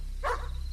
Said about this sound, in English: I heard Chester's barks out in the woods. Like scared, whimpering type barks.